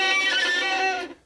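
A single bowed violin note played with the fingertip not pressed down, giving a thin, airy, unfocused tone that sustains for about a second before cutting off.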